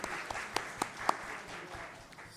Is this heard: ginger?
no